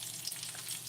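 Beef bacon frying in a pan, a quiet, steady crackling sizzle with no voices, heard briefly.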